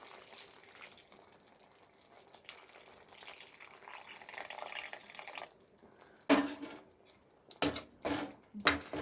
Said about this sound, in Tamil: இப்போ வந்து நம்ம இதை புளி தண்ணி சேர்த்துக்கலாம்